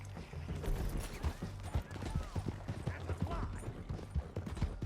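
Horse hooves clip-clop at a steady gait in the Red Dead video game, a run of sharp, evenly spaced hoof strikes over a continuous low rumble of game ambience.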